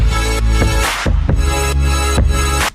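Lush electronic track built on sustained synth chords that swell and pulse in repeated phrases, full and loud, with a low bass beneath.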